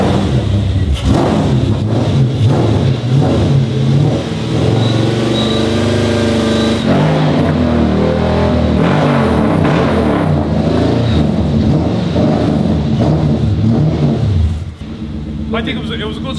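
Drift car with a swapped-in V8, its engine revving and rumbling loudly and close, the pitch rising and falling through repeated revs while people talk over it.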